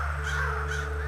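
Crows caw repeatedly in the point-and-click adventure game The Night of the Rabbit, their harsh calls sitting over a low, steady ambient hum.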